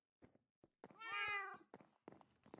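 A Minecraft cat gives one clear, drawn-out meow after a few soft clicks and thumps, heard alone and faint.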